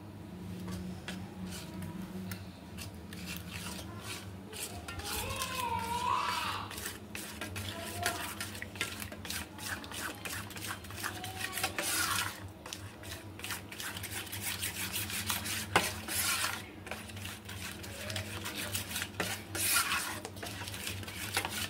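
An egg with chilli, cumin powder and salt is whisked in a bowl, giving a steady run of quick, close clicking taps that continues throughout with brief pauses.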